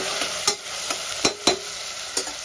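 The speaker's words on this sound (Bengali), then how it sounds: "পেঁয়াজটা ভাজা হতে থাকুক" Onions sizzling in hot oil with a steady hiss, punctuated by several sharp spatula scrapes and taps at irregular intervals.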